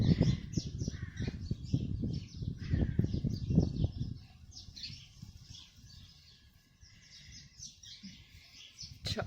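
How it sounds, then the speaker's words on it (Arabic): Small birds chirping and tweeting continuously at a moderate distance, over low rumbling noise that fades after a few seconds. "صوت العصافير بقى، زقزقه العصافير"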